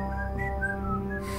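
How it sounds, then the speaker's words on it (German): In the Helldorado video game, a music box tune is whistled as a short, clear melody of a few sustained pitched notes, close and alone without speech. "Das ist das Geräusch, das die Spieluhr macht."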